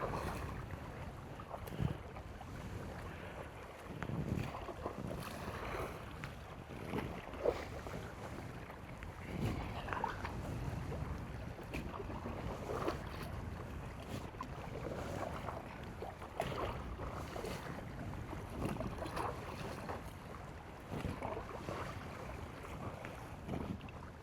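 Paddling a small boat across a lake near castle ruins: soft repeated paddle strokes and gentle water swishes recur every couple of seconds under steady outdoor wind noise, quiet and close, with no speech.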